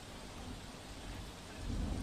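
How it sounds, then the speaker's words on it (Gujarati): Heavy rain in Sagbara, Narmada district, pouring steadily with a low rumbling undertone, swelling louder toward the end; no voices. "સાગબારા અને ચિગદા તાલુકામાં ભારે વરસાદ"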